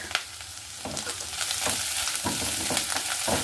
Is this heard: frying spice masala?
yes